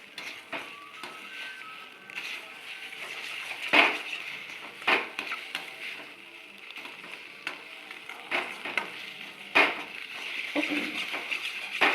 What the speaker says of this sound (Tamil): அப்படியே நல்லா கலக்கிட்டே இருப்போம்.